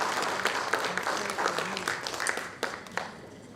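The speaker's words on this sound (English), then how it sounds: "So I would like you all to give another round of applause to all the performers for today." An audience at an inauguration event in Nagaland applauds the performers with steady, moderately distant clapping that holds throughout.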